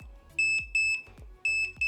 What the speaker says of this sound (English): It's very instant that it's beeping.